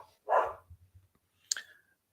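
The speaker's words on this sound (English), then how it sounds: "I've got dogs barking here." A dog barks once sharply nearby, followed by a few soft thumps and then a brief high yelp, in an otherwise quiet room.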